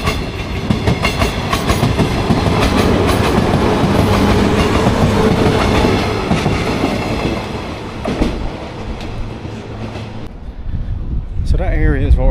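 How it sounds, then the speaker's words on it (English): A train rumbles past on a railway line in Onomichi, Japan, loud and close with steady clattering wheels for about ten seconds before fading, while people talk nearby. "Oh, here's a train."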